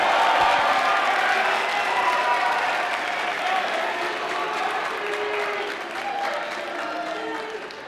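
Enthusiastic applause from a large audience at a spring concert, with cheers and a few voices mixed in, starting loud and fading slightly toward the end.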